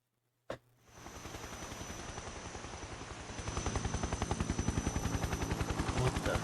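A helicopter in the video game Metal Gear Solid 3: Snake Eater arrives abruptly and keeps up a steady rotor chop that grows louder and more pronounced halfway through, with no talk.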